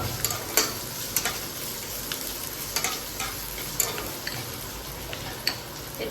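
Chopped ginger, garlic and onion sizzle in a pan while a spatula scrapes and stirs them, with a steady frying hiss broken by scattered sharp clicks of metal against the pan.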